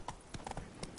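Horse galloping in The Witcher video game, its hooves pounding in a quick, uneven clip-clop of several close, loud beats within a second.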